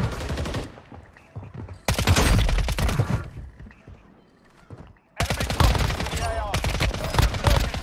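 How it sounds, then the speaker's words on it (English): Bursts of automatic gunfire from Warzone Mobile, two long, loud strings of rapid shots separated by a quieter pause with faint distant firing, each burst rattling steadily and close. "Dude will not stop shooting."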